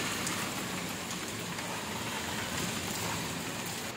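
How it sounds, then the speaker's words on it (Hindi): Heavy morning rain with strong wind, a steady dense wash of rainfall and gusty rushing noise that continues evenly throughout, with no voices. "सुबह सुबह बारिश और ये तेज हवाएं"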